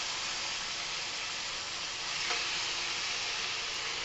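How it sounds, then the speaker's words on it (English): Mashed turnip, potatoes, cabbage and carrots sizzle steadily in a frying pan for corned beef hash, a close, even frying hiss with no talking. "Into my frying pan goes my mashed up vegetables"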